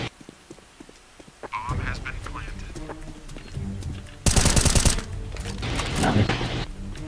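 AK rifle firing during a CS:GO match: a loud rapid burst of automatic fire in mid-clip, surrounded by quicker footstep-like clatter and other game sounds, with voices present.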